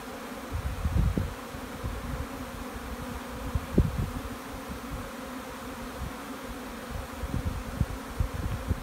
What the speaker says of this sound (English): My entire apiary has just all of a sudden taken flight.